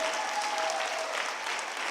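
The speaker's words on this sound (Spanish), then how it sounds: "Dele un aplauso a Dios como si usted supiera que Él está aquí." A church congregation applauds in a dense, steady wash of clapping with no talk, loud and continuous throughout.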